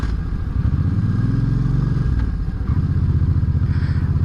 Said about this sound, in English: I do like how the V-twins sound.